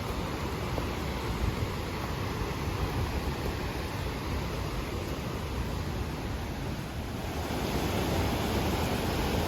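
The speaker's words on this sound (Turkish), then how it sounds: "görüldüğü gibi burada da su yine görül görül akıyor" Water rushes in a stream in the Verzasca valley, Switzerland, as a dense, constant broadband roar, loud and close with little change in level, no voices.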